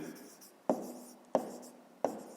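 A pen writes on paper during a fifth-grade maths exercise, producing three sharp, evenly spaced scratching strokes with soft friction noise between them, close and quiet with no talk.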